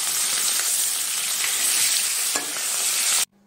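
Salted, turmeric-coated fish pieces frying in oil in a wok give a loud, continuous crackling sizzle that holds steady for a few seconds and then cuts off suddenly.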